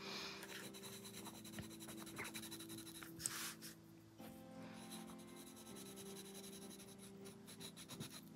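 A Koh-i-Noor graphite stick scrapes and rubs across paper in quiet, close strokes, soft scratchy friction rising and pausing over several seconds.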